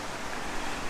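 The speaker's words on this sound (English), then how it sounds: "I can't do anything about the wind or the creek," A steady rush of wind buffets the microphone over a continuous wash of a flowing creek in the mountains, broad and noisy with no voices.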